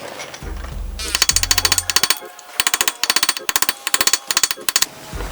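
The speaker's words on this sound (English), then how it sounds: "Give it a little tap with a hammer, just so that it locks onto the face of that nut." Rapid metallic hammer taps on a locking washer tab against a nut, during a brake upgrade on a 60 Series Toyota Land Cruiser, ring out in quick bursts, sharp and close, with brief pauses between the runs.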